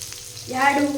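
Chopped onion tipped into hot oil for a Hyderabad-style paneer masala gravy breaks into a sudden, loud sizzle partway through, rising from quiet kitchen noise into steady close frying crackle with no talk.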